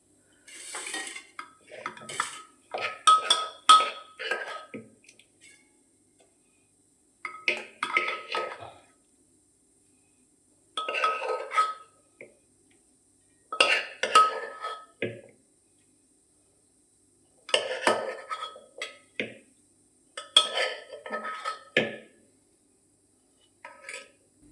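Cooked valor bean curry spooned from a pressure cooker into a dish, repeated clinks and scrapes of a steel spoon against metal in short bursts separated by quiet pauses.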